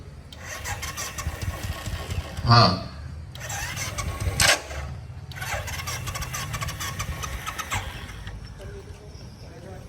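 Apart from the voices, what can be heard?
car engine starting and idling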